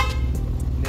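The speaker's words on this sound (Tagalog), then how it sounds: "Ay, busina nga pala." Horn of a Yamaha XJR400 motorcycle, a loud close blare held steadily for about a second with engine rumble underneath.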